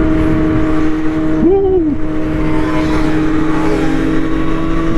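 Sport motorcycles including a BMW S1000RR accelerating on a Dallas freeway, a loud, continuous engine roar with a rising rev sweep over rushing wind, and a brief voice whooping once.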